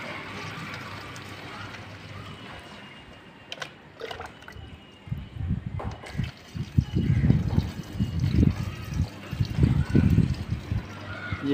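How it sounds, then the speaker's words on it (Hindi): After a quiet start, water pours and gurgles into a container, the burbling growing louder and splashier toward the end. "अब मैं इसमें पानी भर रहा हूँ"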